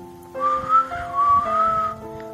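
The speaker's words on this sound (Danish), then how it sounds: "så lad mig fløjte, så hun kan høre, at jeg er glad." A person whistles a short, cheerful melodic tune, clear and close, with sustained pitched notes gliding up and down over a faint low background.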